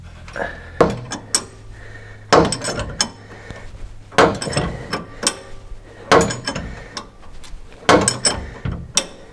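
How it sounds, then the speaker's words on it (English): A torque wrench tightens the rear shock mount nut on a RAM 1500 with Bilstein 5100 shocks, making repeated bursts of close metallic ratcheting clicks and knocks separated by short pauses. "I'll actually follow that with a torque wrench to spec"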